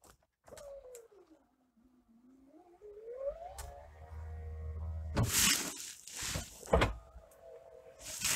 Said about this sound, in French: Je peux maintenant baisser mes carreaux.